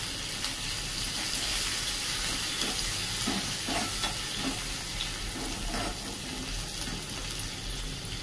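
Tadka of turmeric and finely chopped coriander sizzling in a hot pan for a cucumber bhaji, a steady close hiss and crackle that runs unbroken throughout.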